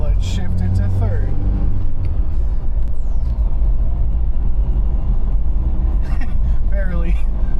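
Old Toyota truck of about 4,000 pounds with a 150 horsepower engine climbs a hill in third gear, a loud steady low rumble heard under a man's speech.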